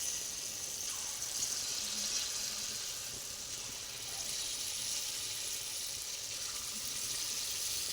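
Small jackfruit pitha deep-frying in hot oil, a steady broadband sizzle and hiss that holds at an even level throughout with no voices.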